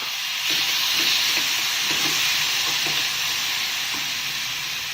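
Pineapple pieces tipped into a hot kadhai for pineapple halwa, giving a steady loud sizzle and hiss with faint stirring clatter throughout, no voices.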